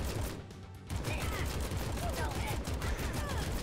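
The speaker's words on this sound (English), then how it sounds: "We're using the Tommy gun." Tommy gun fire in the video game AK xolotl, a dense rapid burst that drops out briefly and then resumes as continuous loud automatic shooting.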